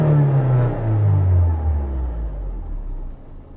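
Mazda Roadster RF engine with an induction sound enhancer, a loud, low rumble that revs and then falls steadily in pitch over a few seconds, fading toward the end.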